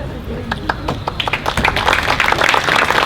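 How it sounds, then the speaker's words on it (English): Audience at a Boys and Girls Club 50th anniversary event applauds Linda Storley as she stands, a steady wash of clapping with voices talking over it throughout. "Okay, don't applaud her yet."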